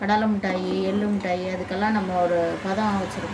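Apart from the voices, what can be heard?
No everyday noises stand out.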